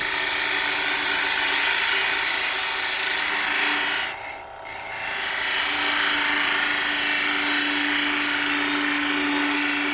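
A cherry wood workpiece spins on a wood lathe while a turning tool cuts it, giving a loud, continuous whirring hiss with a brief dip in the middle before the cut resumes at full strength.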